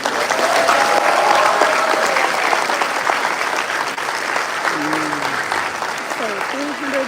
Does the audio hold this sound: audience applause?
yes